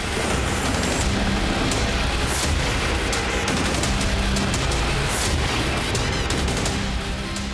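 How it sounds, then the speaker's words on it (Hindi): Loud, rumbling blasts and crackling bangs from multiple explosions at Beirut airport follow one after another over a dense roar, with sharper bursts standing out now and then. "एक के बाद एक कई विस्फोट से बेरूत एयरपोर्ट बुरी तरह दहल गया।"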